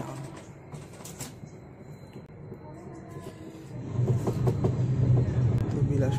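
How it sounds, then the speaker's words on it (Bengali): A black goods train pulls away near Bilaspur station, its low rumble and wagon clatter building from a faint background murmur into a louder, steady roll in the final seconds. "ওইদিকে মালগাড়িটা ছেড়ে দিয়েছে, কালো মালগাড়ি।"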